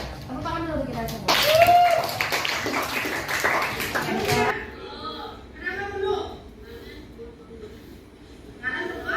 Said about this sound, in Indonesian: Tepuk tangan dulu kita semua.